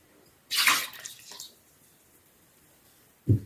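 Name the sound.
warm milk being poured into mashed potato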